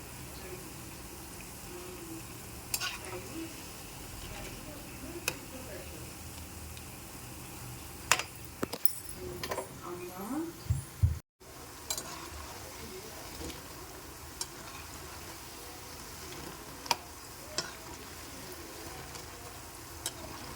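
Punugulu fritters made from idli batter mixed with curd fry in hot oil, giving a steady, soft sizzle with occasional sharp clicks and taps as they are stirred.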